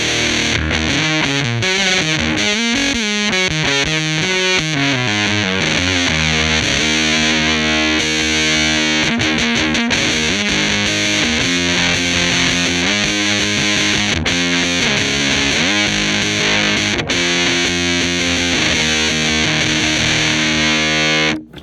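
A Boss TB-2w Tone Bender guitar pedal run at 7 volts, a thick distorted electric guitar riff played continuously and loud with a compressed, fuzzy tone.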